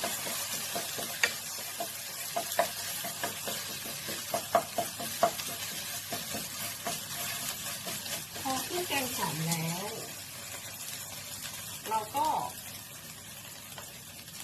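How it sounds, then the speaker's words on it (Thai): Thick curry paste stir-fried over low heat in a pan for southern Thai kua kling with minced pork, a steady close sizzle broken by sharp spatula scrapes and clacks, with brief faint voice sounds midway. "ผัดเครื่องแกงที่หอมค่ะ ถ้าใช้ไฟแรงๆเดี๋ยวเครื่องแกงจะไหม้ได้นะคะ"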